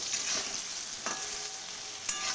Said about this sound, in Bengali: আর এই ভেন্ডি আর আলুগুলো কিন্তু খুব ভালো করে ভেজে নিতে হবে বন্ধুরা